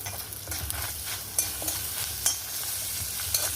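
Rice grains and curry leaves frying in hot oil for a salted raw jackfruit sambar, a steady close sizzle with soft stirring scrapes and a few sharper crackles, no voices.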